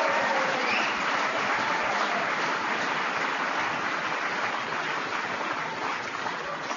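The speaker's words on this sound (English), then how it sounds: "Give yourselves a round of applause." A large crowd at a political rally in Fargo, North Dakota applauds steadily, a dense, sustained wash of clapping that holds at full strength and only eases slightly toward the end.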